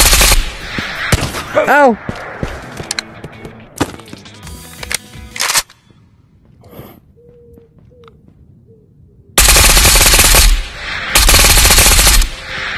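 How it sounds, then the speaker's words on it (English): Full magazines of armour-piercing rounds are emptied in Ghosts of Tabor: loud automatic bursts, then a quiet gap, then two long sustained volleys close up, with a brief pained shout from a player. "I put 2 full mags into him! Of AP"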